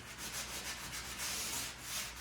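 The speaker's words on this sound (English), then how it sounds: "you take a light sanding block or sandpaper and lightly sand over the area to make it smooth" A light sanding block rubs over a dried drywall patch from a nail pop repair, giving a steady, soft scratchy swishing in continuous back-and-forth strokes, close and fairly quiet.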